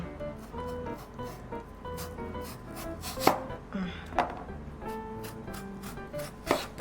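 Potatoes are chopped into thick slices with a knife on a board, giving quiet, irregular thuds and a few sharper cuts over several seconds without talk.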